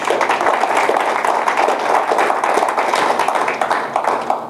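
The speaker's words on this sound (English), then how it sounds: "Please give a big round of applause for her." An audience at a Toastmasters speech meeting claps in a sustained round of applause, many hands close and loud, steady throughout with no speech.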